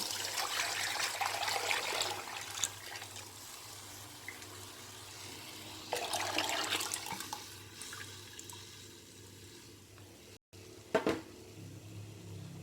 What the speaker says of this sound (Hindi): जब इसका ये तेल ऊपर आ जाए तो इसमें आप जो आपने कड़ी का पानी रेडी किया हुआ था वो आप इसमें डाल देंगे।